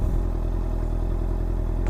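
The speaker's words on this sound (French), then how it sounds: "Voilà le bruit du pot Black Widow au ralenti." A Honda CB650F motorcycle with a Black Widow exhaust idles close by in a steady, low, even rumble with no talking.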